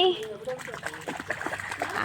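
A dog splashes into water for the first time, sloshing briefly, with a voice and other chatter over the top.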